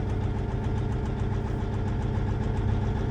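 Versatile 2360 tractor engine running steadily during a cylinder cutout test for a failing injector, a close, even diesel chug with a slightly uneven, knocking rhythm.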